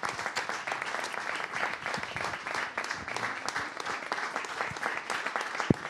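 A live studio audience applauds a singer with dense, sustained clapping that holds steady and loud throughout, without speech over it.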